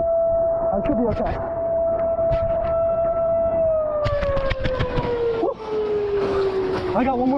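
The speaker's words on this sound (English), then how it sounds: "I got one more siren." A steady wailing warning siren tone holds and slowly falls in pitch, with wind and water noise and scattered clicks underneath.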